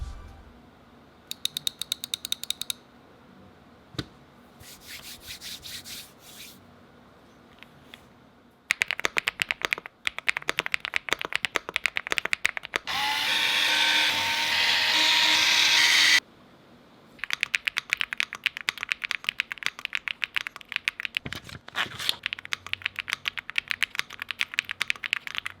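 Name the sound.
typing on Epomaker Galaxy80 keyboard, marble white switches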